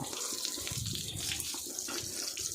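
Running water splashes steadily while a pig is bathed on a farm, a continuous faucet-like gush heard fairly close with no talking over it.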